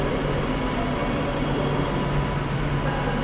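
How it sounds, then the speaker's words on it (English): A train departs Manchester Piccadilly as the 1448 service to Sheffield, a steady moderate rumble of rolling stock with faint wheel noise and no speech. "Off goes the 1448 to Sheffield."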